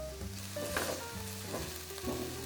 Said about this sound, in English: Now these onions have caramelized.